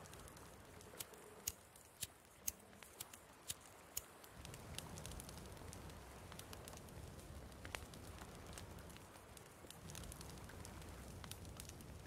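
A campfire burns in the survival game The Forest, a faint crackle with scattered sharp pops over a low, steady rushing bed.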